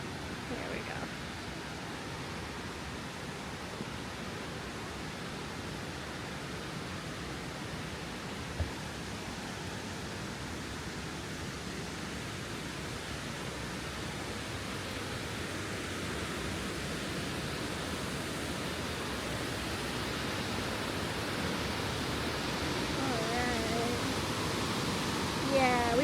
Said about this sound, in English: I guess I have to talk a little louder now because the falls are pretty loud.